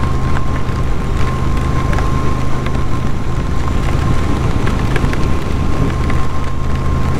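Rain during a motorcycle ride over Passo San Boldo in Italy comes through as loud, unbroken wind-and-spray roar with a steady low engine drone and faint patter, close and constant throughout.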